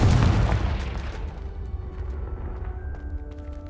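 A loud blasting-spell explosion in the Hogwarts Legacy video game: a heavy boom at the start that rolls off into a lingering rumble, with faint tonal game sounds emerging as it decays.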